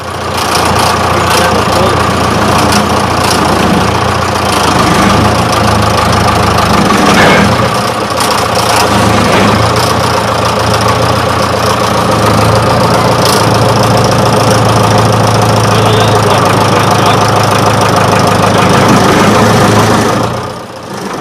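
A tractor engine labours while hauling a heavy roller up a ramp, a loud, steady low rumble with knocking, mid-range engine tones that persists throughout, with occasional clanks over it.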